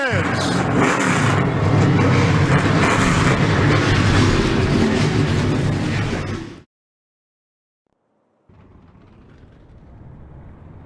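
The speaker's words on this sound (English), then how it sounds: "Drivers, start your engines!" Race car engines in the NASCAR Racing 2003 video game roar together loudly and steadily, a dense field of revving engines that cuts off abruptly, followed after a short silence by a softer, lower engine hum.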